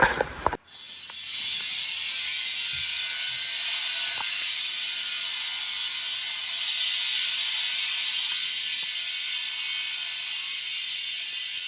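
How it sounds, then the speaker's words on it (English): Compressed air hissing steadily into the air bags of a bagged OBS Ford truck's suspension, a loud continuous rush that starts abruptly after a brief click and holds for about eleven seconds with slight swells. "let me air the truck up and I'll show you."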